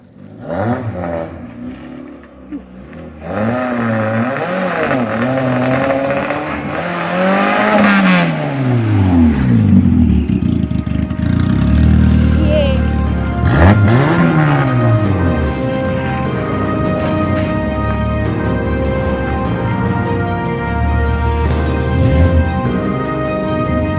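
A homemade turbocharged Peugeot 106 engine revs repeatedly, rising and falling in loud sweeping surges, with a steady mechanical drone between pulls.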